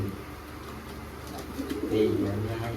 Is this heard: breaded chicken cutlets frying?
no